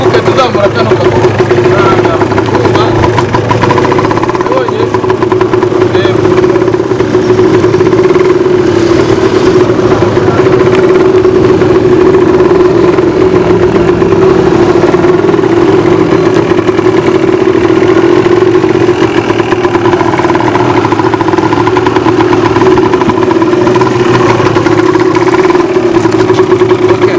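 A motorcycle engine idles steadily and loudly at close range, holding an even, unbroken hum for nearly half a minute while a voice talks over it.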